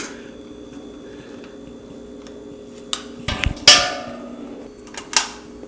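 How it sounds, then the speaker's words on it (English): A metal lid fitted onto a full beer keg: a few close clanks and scrapes followed by two sharp metallic knocks that ring briefly, over a quiet room hum. "Let's put the lid on here"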